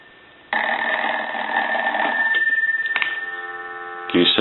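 An India wood wall telephone's bells ring loudly and close by in a long metallic burst, fall quiet briefly, then ring again in two shorter bursts.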